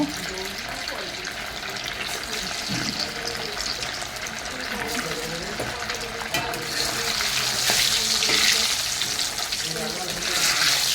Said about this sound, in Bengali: সেই মাছটা আমি কোপ্তা করেছি, সেটাকে আমি এখন ভেজে নেব।